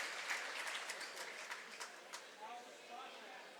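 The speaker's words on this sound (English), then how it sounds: "the Manasquan players clap for her as well" Girls high school basketball players from Manasquan clap for an injured opponent in a gym, a steady patter of applause with scattered sharper claps under a broad crowd wash and murmuring voices.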